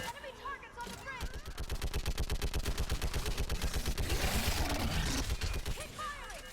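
Rapid automatic gunfire in the Mass Effect 3 video game, a long sustained burst of evenly spaced, loud shots with a rattling mechanical edge, preceded and followed by shorter scattered weapon sounds.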